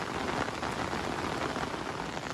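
Rain falls steadily in a dense, even hiss of drops on surfaces, continuous and fairly close, with no voices.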